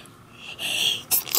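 A single sneeze with a sharp, breathy burst at the end, close and fairly loud, following a soft intake of breath, in a home during a children's color game.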